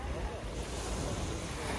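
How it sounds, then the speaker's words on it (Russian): Sea surf washing onto a crowded beach in Antalya on a morning with some swell, a steady close roar of water with wind buffeting the microphone. "И сегодня с утра волна"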